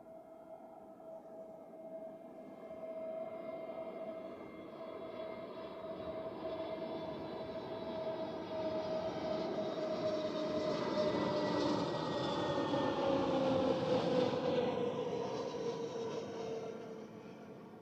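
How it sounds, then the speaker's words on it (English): An EasyJet airliner landing on runway 14 at Zurich Airport, its jet roar swelling steadily over about eighteen seconds with a rising whine, growing louder and nearer toward the end, with no talk. "So, next up is the EasyJet. See how soon we see it."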